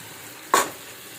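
Yogurt poured into chicken curry sizzling in hot oil, one brief burst of frying hiss rising sharply and fading within a moment against a quiet background.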